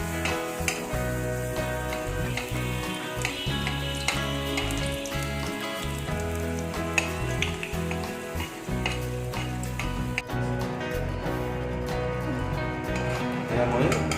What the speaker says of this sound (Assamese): এতিয়া মই এটা এটাকৈ গোটেইকেইটা ভাজি ল'ম।